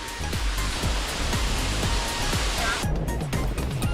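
Jeju's Jeongbang Waterfall, 23 m high and 8 m wide, plunges into a pool with a loud, constant rushing roar, scattered with faint clicks and briefly dulling toward the end.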